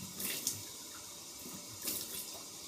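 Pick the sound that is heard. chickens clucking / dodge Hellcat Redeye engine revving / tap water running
tap water running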